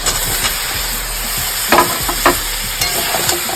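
Eggplant pieces sizzling and frying in a pan while being stirred, a steady close hiss with a few sharper crackles and scraping stirs.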